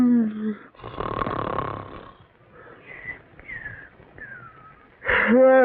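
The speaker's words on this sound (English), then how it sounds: "Either stop snoring or cover your head with pillows." A cartoon character in a children's story snores in loud, rasping, wheezy breaths, with whistling tones between them. Voices speak before and after the snores.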